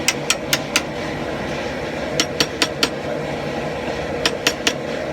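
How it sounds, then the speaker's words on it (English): A hammer drives a chisel into a bandsaw cut in a steel spike clamped in a vise. Three bursts of about four sharp, ringing metallic strikes each stand out over a steady low shop hum. "just take a chisel and open up the cut we made with the bandsaw"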